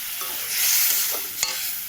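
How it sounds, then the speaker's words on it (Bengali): Spices for a dried fish curry, with dried red chili, sizzle steadily in a hot pan, a soft continuous frying hiss with a brief scrape of stirring near the end, close and alone. "এই যে মশলাটা ভাজা হয়ে গেছে, শুটকি মাছের মশলাটা ভাজা হয়ে গেছে।"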